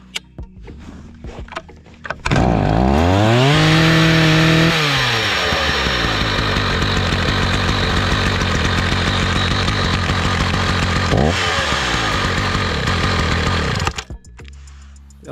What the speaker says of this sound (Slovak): po ťuknutí páčky sa vráti motor do voľnobežných otáčok